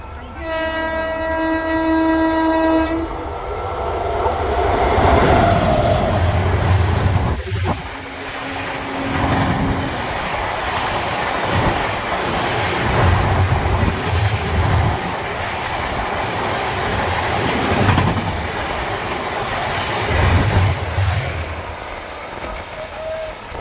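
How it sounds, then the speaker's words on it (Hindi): Hazur Sahib Nanded Superfast Express, an Indian passenger train, approaching with a long sustained horn blast, then roaring past at about 110 km/h with loud continuous wheel rumble and rhythmic rail clatter throughout. "तो ये थी भाई हजूर साहब Nanded super fast express, flat 110 पे निकली भाई"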